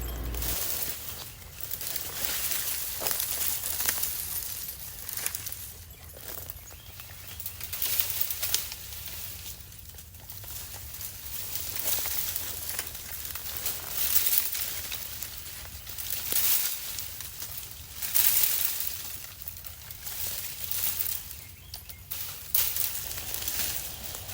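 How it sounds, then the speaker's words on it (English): Birds calling outdoors around a house yard, scattered chirps and cooing-like calls over a soft continuous background hiss, fairly distant and unhurried. "I love listening to the birds."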